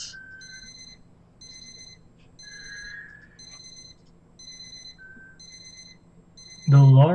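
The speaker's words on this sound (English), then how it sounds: "The alarm is going off." A video game alarm clock beeps in a steady repeating pattern of short high tones, moderately loud over a low room hum, before a sudden louder burst at the end.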